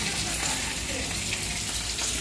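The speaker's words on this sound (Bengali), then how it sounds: "পেঁয়াজটা ভালো করে ভাজা হোক।" Onions fry in a pan with a steady, bright crackling sizzle, close and even in loudness from start to finish, with no other sounds standing out.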